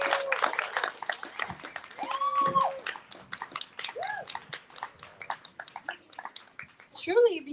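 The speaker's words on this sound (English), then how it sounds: "Another round of applause." Audience applause at a poetry reading in DC rises right after a poem ends, dense clapping under a talking host and some cheers.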